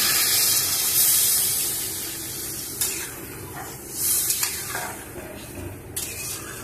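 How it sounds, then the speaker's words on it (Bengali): Water poured into a hot cooking pot of potatoes and mushroom, a loud rushing hiss and sizzle up close that surges again midway with a few knocks of a utensil. "জল দিয়ে দিচ্ছি।"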